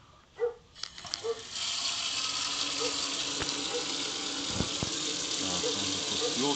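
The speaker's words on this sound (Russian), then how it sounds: "Сейчас открою еще горячую воду и посмотрим старт его." Hot water gushes steadily from a running tap as a Ferroli wall-mounted gas boiler, just repaired, fires up, after a few soft knocks and clicks, with faint voices beneath.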